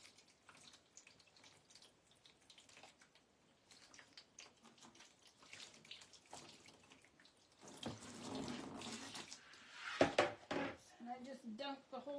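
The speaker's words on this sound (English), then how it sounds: "Just dunk the whole thing in the rinse bin." Paper dunked and swished in a rinse bin of water during a marbling session, with splashing and trickling that swell into a louder wet burst midway, sometimes under a speaking voice.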